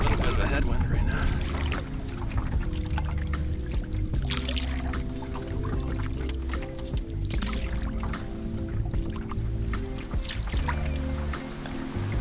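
Canoe paddling on a lake in warm early-May weather with a headwind: continuous water swish and low rumble, with repeated paddle strokes giving splashy dips and trickles throughout, fairly close and steady.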